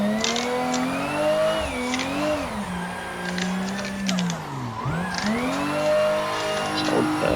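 A Toyota Supra drift car's engine revs hard against the rev limiter, a loud, continuous, wavering roar held close up for several seconds with brief dips where the revs bounce, and some tyre noise underneath.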